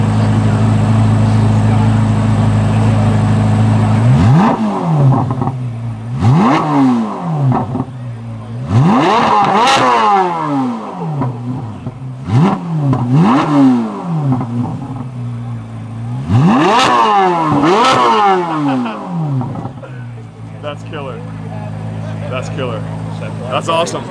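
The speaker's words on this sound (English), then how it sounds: "I get some revs on the Z06 here." A 2023 Corvette Z06 C8 engine blipped repeatedly up from idle, sharp loud rising revs that snap up and fall back in a series of bursts, close and very loud, with a rumbling idle between.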